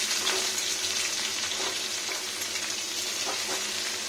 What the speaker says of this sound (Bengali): হাই টেম্পারেচারে ফুল স্পিড দিয়ে ভাজতে হবে, কাঁচা আলু এখন